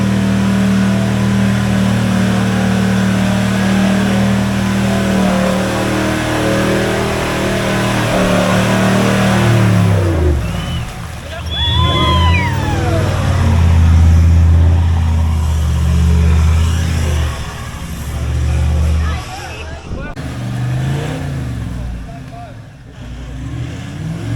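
An Isuzu D-Max 4WD revs its engine on a rough off-road track. The loud, droning engine note rises and falls with strain and is joined by a second engine midway. Indistinct voices can be heard in the background.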